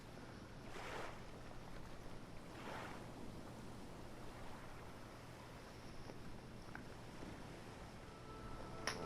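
Choppy ocean waves in the survival game Stranded Deep, a steady washing surf with broad swells rising around the first and third seconds, mixed with wind noise and a low constant hum.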